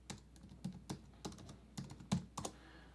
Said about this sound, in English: I'm gonna type in mushroom.